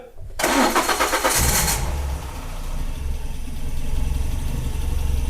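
A Renault Clio RS with a swapped-in F4R engine cranks briefly, then catches and settles into a steady, close idle with a deep rumble.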